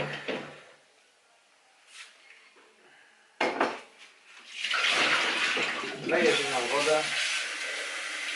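Metal pot clanks and clatters near the microphone, then water rushes and splashes steadily into it, with a few knocks along the way, while preparing a liquid yeast starter for home brewing.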